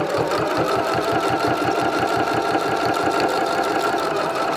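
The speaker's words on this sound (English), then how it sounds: "let's edge stitch, which means we're gonna stitch about a 16th or an 1/8 of an inch away from the edge here" A sewing machine runs steadily, edge stitching an oven mitt, with a fast, even mechanical chatter of the needle close up and no talking.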